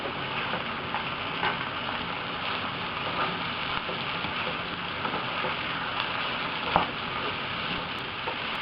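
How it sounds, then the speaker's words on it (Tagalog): Shrimp cooking in a pan with vegetables gives a steady, close sizzling hiss with faint stirring clicks throughout, and no voices. "Then, lulutuin lang natin itong shrimp sandali."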